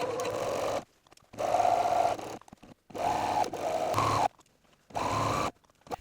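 A sewing machine runs a long quilt seam in bursts of steady whirring motor sound, stopping and starting about four times with short quiet gaps between runs.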